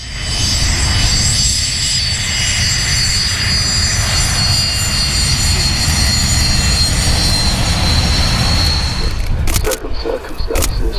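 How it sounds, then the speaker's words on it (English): A loud fighter jet passing overhead, a dense continuous engine roar with a high whine, close and powerful throughout before a few sharp clicks near the end. "Amazing fighter, very noisy, very spectacular."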